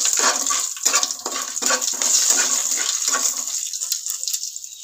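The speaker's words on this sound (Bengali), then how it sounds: "এবার আমি ফোড়নে দিচ্ছি 3টে এলাচ, একটু জয়িত্রী আর একটু গোটা জিরে দিয়ে দিলাম তেলের ওপর" Three cardamom pods, mace and whole cumin seeds hit hot oil for tempering, giving a loud, close crackling hiss with rhythmic spurts that gradually thins out.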